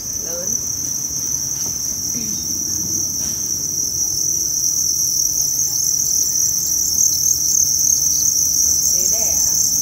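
Crickets at a cricket breeding farm where females climb onto trays of moist sand to lay eggs, chirping in a dense, steady high-pitched chorus that stays loud and continuous throughout.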